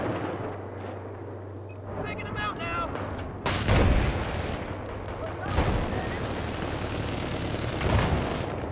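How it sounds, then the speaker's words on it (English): Pistol fire in Battlefield 4 multiplayer, loud sharp shots and booming blasts scattered over a dense battle din, with a voice talking partway through. "Got two enemies with my pistol."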